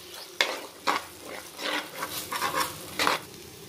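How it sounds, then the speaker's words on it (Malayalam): Chili masala for a Kanjirappally-style fish curry is stirred and sautéed in a pan, with repeated scraping strokes of a spoon over a soft sizzle, close and moderately loud, several distinct sweeps at uneven intervals. "നന്നായിട്ട് ഇളക്കി കൊടുക്കുക നമുക്ക്."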